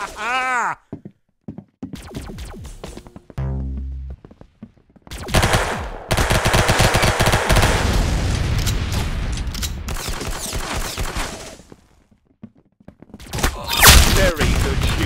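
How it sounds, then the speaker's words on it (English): Bursts of gunfire from the video game Arsenal, with rapid automatic fire and single shots coming in loud clusters separated by gaps, and a voice talking over parts of it. "Very good shooting."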